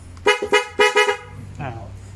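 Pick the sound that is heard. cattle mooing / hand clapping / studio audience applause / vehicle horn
vehicle horn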